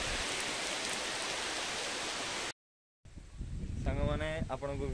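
Steady rain with wind beneath a fully overcast sky, a dense even wash that cuts out briefly, then returns quieter with a voice talking over it.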